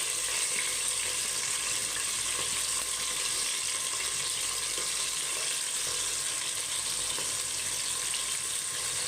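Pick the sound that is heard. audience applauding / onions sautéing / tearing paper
onions sautéing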